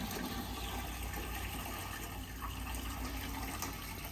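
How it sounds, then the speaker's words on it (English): Water pours steadily from a bucket or hose into the basin of a Dorset sphere fountain, a continuous close, loud rushing splash with no pauses and no voices. "We can either use a bucket or a hose. And what I like to do is fill the basin"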